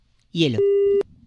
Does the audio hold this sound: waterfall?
no